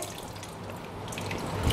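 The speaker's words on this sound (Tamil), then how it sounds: "இப்போ கடைசியில் நம்ம இந்த புளித்தண்ணி ஊற்றுறோங்க." Tamarind water poured into a pot of bitter gourd sambar, a soft continuous liquid splash that thickens slightly toward the end, close and fairly quiet, with no voices.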